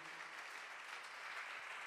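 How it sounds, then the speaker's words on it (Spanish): A church congregation applauding during a sermon, a dense, even wash of clapping from many hands, sustained and fairly distant throughout the short stretch. "Ese fuerte aplauso para Él."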